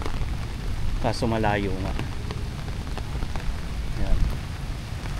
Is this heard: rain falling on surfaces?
yes